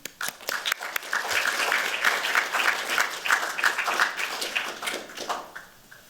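An audience at an academic symposium panel applauds to welcome a speaker, with dense, steady clapping that holds for several seconds before tapering off, close and full in the room.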